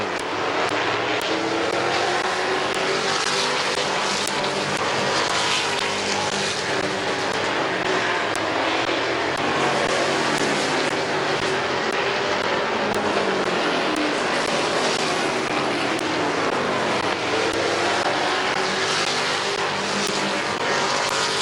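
Race cars roar continuously around the oval at Midvale Speedway, a loud, dense engine drone sustained throughout with no talk over it.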